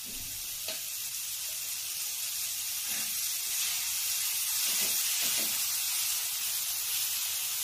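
Oil sizzles steadily in a pan while tomato thecha cooks, a continuous bright hiss with faint crackles and a few soft stirring knocks, close and unbroken.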